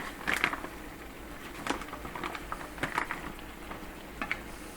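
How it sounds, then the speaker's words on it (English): Steady crackling sizzle with scattered pops of spiced food frying in a hot pan, continuous and moderately quiet. "You can hear it sizzling."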